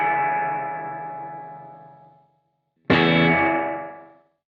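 Electric guitar through a Gamechanger Audio Light Pedal reverb: a bright strummed chord rings out with a long shimmering tail that fades into silence, then a second loud chord strikes and decays again.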